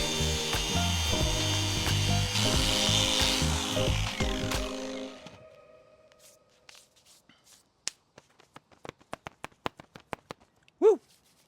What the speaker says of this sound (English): switch over to the grinder and see if that works any better